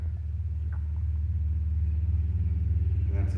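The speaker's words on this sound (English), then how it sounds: "And that's a car outside." A car passes outside a house, a low rumbling engine drone that holds steady and swells slightly as it goes by, heard from indoors without any talking.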